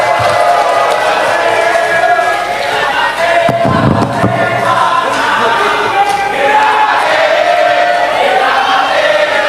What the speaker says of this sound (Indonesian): Kami persilakan untuk para pendukung, silakan tepuk tangan meriah kepada para pasangan calon.